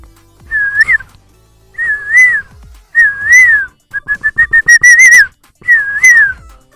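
Human whistling mimics a koel's call: five close, clear rising-and-falling whistled phrases, one a rapid run of short repeated notes, loud and alone with no talk.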